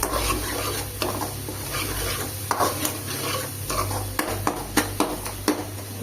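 Masala with yogurt for a chicken dish frying in a pan: a steady sizzle under repeated stirring scrapes and sharp spoon knocks against the pan, close and continuous.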